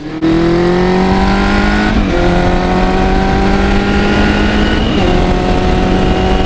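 A 1980 Kawasaki KZ550 LTD motorcycle engine revving loud and close, a steady rising whine that climbs in pitch, briefly drops back twice and pulls up again, sustained throughout with no speech.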